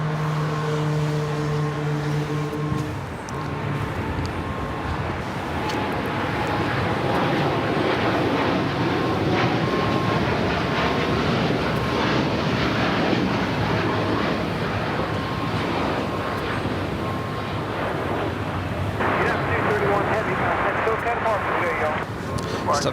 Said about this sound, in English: That is Austrian Flight 81 coming in from Vienna, 777-200ER, touching down.